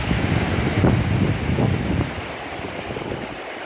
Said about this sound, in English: Not a real great swimming day with the waves that high though.